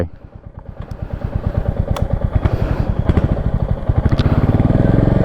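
Royal Enfield motorcycles on a go-kart track: a close, loud single-cylinder engine thumping in an even, rapid beat that quickens as the throttle opens, with occasional clicks and knocks.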